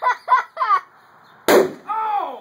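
A dry ice bomb bursts in a 5-gallon pail of water with one sudden, loud, sharp blast. Excited voices come just before it, and a drawn-out shout of reaction follows.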